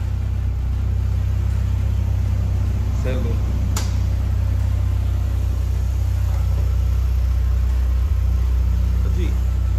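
A Lobini sports car's engine idles with a steady low rumble and gets a light, brief rev, while people talk nearby.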